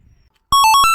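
A mobile phone ringtone for an incoming call starts abruptly after a near-silent moment, playing loud, close electronic melodic tones that step between pitches and continue steadily to the end of the clip.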